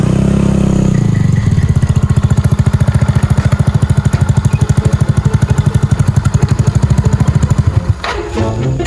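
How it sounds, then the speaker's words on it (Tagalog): A motorcycle engine runs loud and close, settling into a steady rapid pulsing idle after an initial rev, with a clattering change near the end. "Nindutag motor ni Uncle"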